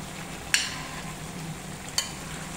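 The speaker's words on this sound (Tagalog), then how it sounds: "unang halo, unang halo pa natin" Vegetables sautéing in a pan for ginisang, a steady soft sizzle under two sharp clinks of a utensil stirring and scraping against the pan.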